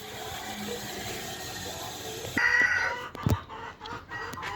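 Chickens clucking in a farmyard with a rooster crowing partway through, amid ambient outdoor noise and a few nearby knocks.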